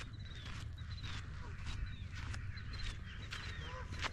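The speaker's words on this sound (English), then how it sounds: "Hi, little ducks. Look at them run." Small ducks quacking outdoors, scattered short calls repeating fairly quietly over a steady low background rumble.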